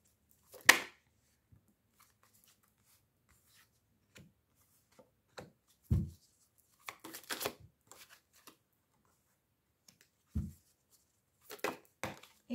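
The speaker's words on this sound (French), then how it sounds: "je vais prendre les cartes et je vous donnerai le message après" Tarot or oracle cards handled during a card reading: soft scattered shuffles, slaps and rubs that come as quiet, isolated bursts separated by long silences.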